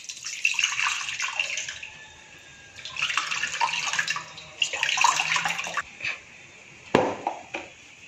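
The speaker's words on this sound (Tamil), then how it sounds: "இப்போ இதில் நம்ம இந்த புளி தண்ணியை இந்த 1 லிட்டர் பக்கத்தில் கரைச்சி விட்டுருக்கோம் இல்லையா" Tamarind water, about a litre, is poured into a cooking pot for a banana-flower curry in bursts, a splashing, gurgling flow stopping and starting several times, ending with a few drips and light clinks.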